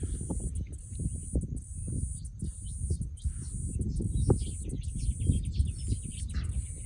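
Birds sing outdoors with bright, repeated chirps and trills above a dense, low rumble of background noise, the calls fairly clear but partly masked.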